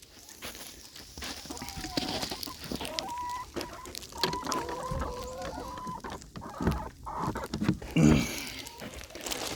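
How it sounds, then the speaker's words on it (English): Chickens cluck and murmur close by in a steady, busy stream, with brief soft calls rising now and then and a louder burst near the end. "Put my little chickens locked back up."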